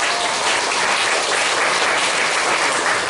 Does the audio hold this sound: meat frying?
no